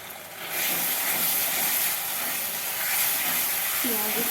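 Kashmiri chicken masala with chilli, ginger and garlic sizzles and hisses steadily in a pan after a splash of water goes in, a loud continuous broadband hiss close by, with a brief faint voice near the end.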